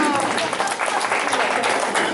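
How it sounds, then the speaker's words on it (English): Crowd applause at a Halloween senior health fair after a performer's stunt, a short burst of dense, steady clapping filling the room at fairly close range. "Let's give them a round of applause for Swammie, ladies and gentlemen."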